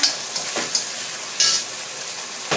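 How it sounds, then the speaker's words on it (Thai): Crispy catfish stir-fried with chili and ginger in a pan: a steady close sizzle and frying hiss with a few scraping stirs of the spatula, no voices. "ผัดให้เข้ากันนะคะ"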